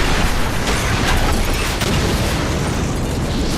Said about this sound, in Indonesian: Lalu di beberapa menit selanjutnya terjadilah ledakan dahsyat